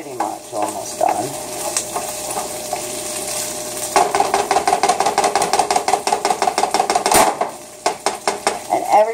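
A hamburger patty sizzles in a pan on a stovetop under a steady frying hiss, while a utensil scrapes and taps the pan in a fast rhythmic series of close, loud clinks.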